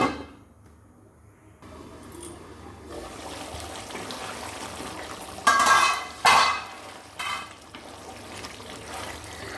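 Water poured into a pot of rice makes a soft trickle that builds into louder splashing bursts, with faint clinks of the pot.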